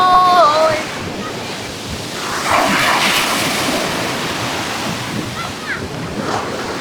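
Atlantic Ocean surf breaking on the shore at Benguela, Angola, with steady wind buffeting the microphone; a continuous close roar of waves with brief voices early on.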